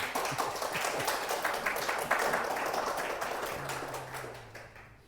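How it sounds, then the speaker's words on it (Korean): Church congregation applauding during a youth Sunday worship service, a fairly faint spread of clapping that holds steady and then tapers off toward the end. "우리 박수 한번 더 크게 쳐줍시다"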